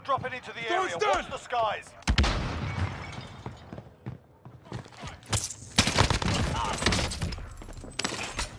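Rapid bursts of gunfire from a first-person shooter video game featuring an AK74u rifle, with sharp repeated shots and booms coming in clusters, mixed with voices talking over the action.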